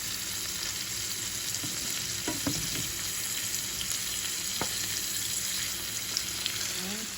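Butter, minced garlic and olive oil fry in a pan with a steady, close sizzle and a few clinks and stirs, with no one talking.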